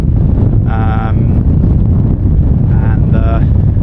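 Gusty Storm Ashley wind at a harbour buffets the microphone with a loud, constant low roar, broken by brief tonal whines.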